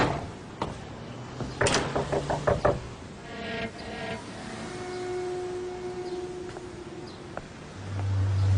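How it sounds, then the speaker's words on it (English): Knocking on a door in a crime thriller film: a quick cluster of about five sharp raps in a row, followed by a hollow door or latch sound and a low room hum afterward. "Did you hear us knocking?"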